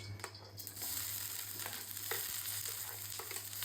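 Onion frying in mustard oil gives a steady, fairly quiet sizzle with intermittent stirring clicks and scrapes, accompanied by a constant low hum.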